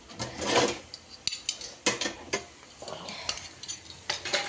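Kitchen utensils and ladles being gathered and put away, a string of close metallic clinks and clatters at irregular intervals, with scraping rubs between them and short quiet gaps.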